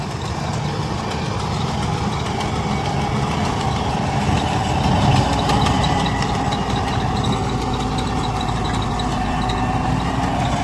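A tractor engine idles steadily at a farm while preparations for a bullock cart race go on, a continuous low mechanical rumble holding at an even, fairly loud level throughout with no talk over it.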